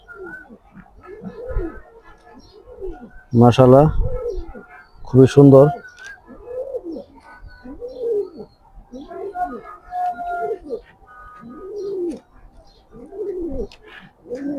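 Racing pigeons cooing close by in repeated soft, throaty rolling calls, with someone talking over them in between.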